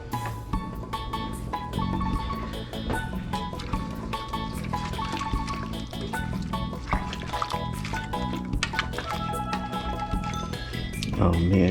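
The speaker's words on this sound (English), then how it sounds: "we'll continue to stir it." Curry sauce being stirred in a pot while making peel-and-eat shrimp, a steady run of wet clinks and sloshing scrapes throughout, close and fairly loud.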